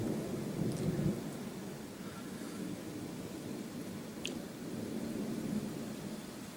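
Thunder from a Texas storm rumbles low and far off beneath steady broadband hiss, with one slightly stronger swell near the start and no voices.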